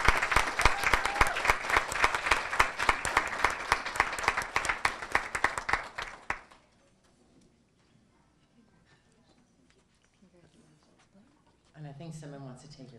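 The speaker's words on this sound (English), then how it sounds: "can we give him a round of applause?" An audience at an AAUW awards ceremony claps loudly for about six seconds. The applause then stops abruptly and gives way to near silence before a voice speaks briefly at the end.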